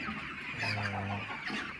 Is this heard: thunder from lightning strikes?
no